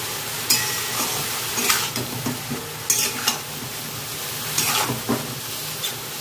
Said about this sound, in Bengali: এবার ভালো করে মশলাটা মিশিয়ে নেব।